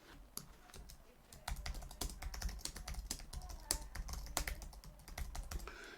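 Rapid typing on a computer keyboard, close and fairly quiet, a dense, steady patter of key clicks with a few sharper taps, and no speech over it.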